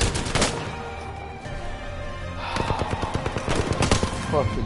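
Rapid bursts of gunfire in the video game Apex Legends, loud and dense with repeated sharp shots, especially in the second half, mixed with a voice talking over the action.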